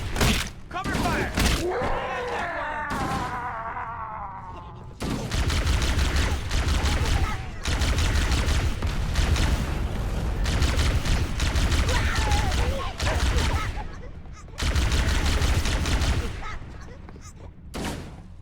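Heavy covering gunfire in Halo: Combat Evolved Anniversary crackles in long, dense volleys with booming thuds, broken by short pauses, while shouted voices cut in near the start.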